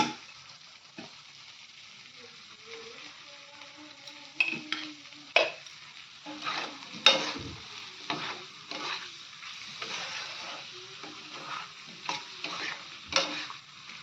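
Fried potatoes with salt being stirred and sautéed in a pan, a soft steady sizzle broken by repeated scraping strokes of a spoon, close and moderately quiet, with no talking.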